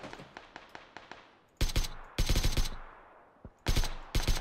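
Automatic weapon fire in the battle royale game PUBG: a string of faint, distant single shots, then several loud, close bursts of rapid fire separated by short pauses.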